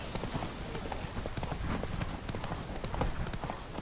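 Hoofbeats of Roach, Geralt's horse in The Witcher 3, pounding in a fast rapid clip-clop gallop, loud and close and steady throughout, with a faint voice underneath.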